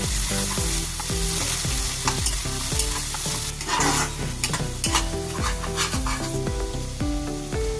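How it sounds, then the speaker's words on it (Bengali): Sesame paste and a little yogurt fry and sizzle in a pan while a utensil scrapes and stirs in quick repeated strokes, loud and close, with no voices. "এরপরে আমি দিচ্ছি তিলের বাটাটা অল্প একটু দই হালকা নাড়াচাড়া করবো"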